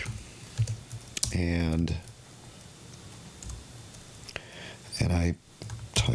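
Fast bursts of keystrokes clatter on a computer keyboard as HTML code is typed, light close clicks running under a man's intermittent speech.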